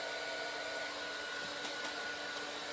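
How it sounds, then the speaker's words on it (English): A heat tool blows hot air to dry ink on a handmade card, giving a steady, close, continuous whooshing drone with no talking. "I have to give that a quick zap as well with my heat tool"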